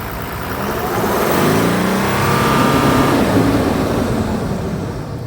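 Toyota Land Cruiser 300 with a 3.3-litre V6 twin-turbo diesel engine, a steady, loud mid-pitched engine drone that swells slightly as it revs, close by and alone without talk.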